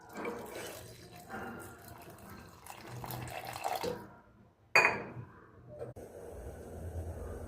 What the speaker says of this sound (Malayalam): ഒന്നര കപ്പ് വെള്ളം ചേർത്ത് കൊടുക്കാം.